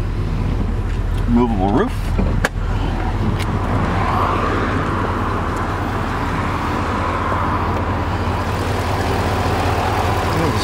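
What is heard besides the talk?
2007 Chevrolet Corvette engine rumble with Corsa exhaust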